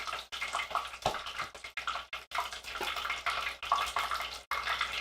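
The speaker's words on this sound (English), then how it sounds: "I can just hear that fish being almost overcooked behind me." Fish fillets deep-frying for a crispy fish sandwich, a steady crackling, bubbling sizzle of hot oil that fills the whole stretch, fairly close and continuous with small bursts and dips.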